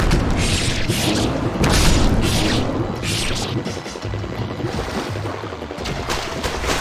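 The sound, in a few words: exploding bomb fish in Ninja Gaiden Sigma video game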